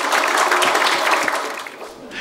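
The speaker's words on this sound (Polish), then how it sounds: "Wielkie brawa, gratulacje." An audience bursts into broad applause to congratulate two vocational school students at a local county event. The clapping is dense and close, then gradually thins and fades toward the end.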